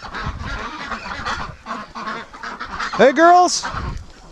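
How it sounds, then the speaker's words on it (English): Breeding ducks honk and quack loudly and close by, one sharp call standing out near the end, while a person talks to them throughout. "it's a steady stream of ducks coming around, and they're all coming over here."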